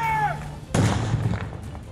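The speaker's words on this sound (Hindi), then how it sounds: "फिर एक एक कर बम उसमें रखे और धमाके से उन्हें उड़ा दिया।" A bomb disposal squad detonates a live bomb in a pit ringed with sandbags in an open field, producing a single sudden blast followed by a rolling, fading rumble after a brief whine.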